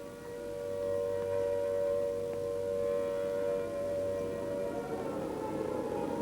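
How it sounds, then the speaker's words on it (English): An air raid siren wails steadily in the distance, holding a sustained tone for several seconds before its pitch begins to shift near the end. "It's an air raid siren."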